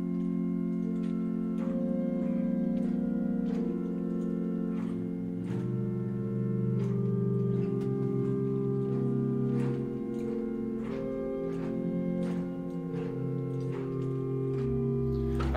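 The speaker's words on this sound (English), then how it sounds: "We've got 2 flute stops as well, the whole pipe." Flute stops of the Hinsz pipe organ in the Bovenkerk, Kampen, play a sustained chordal passage with gently shifting harmonies, full and steady in a reverberant church, and no one speaks.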